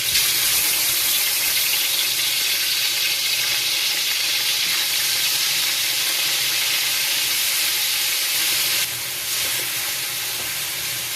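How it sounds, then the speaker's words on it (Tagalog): Loud, steady sizzling of chicken wings frying in hot oil, a dense crackling hiss that continues throughout and drops slightly near the end. "magluluto naman ako ngayon ng adobong pakpak ng manok. Prito muna natin"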